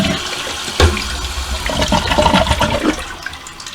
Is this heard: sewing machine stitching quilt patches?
no